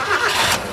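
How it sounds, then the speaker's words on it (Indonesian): A 2001 Suzuki Katana GX engine cranks and fires, a short close starter whirr catching into a rising mid-pitched rev that settles quickly. "Sekarang coba kita nyalakan dulu mesinnya."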